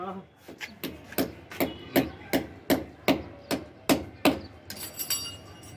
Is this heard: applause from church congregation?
no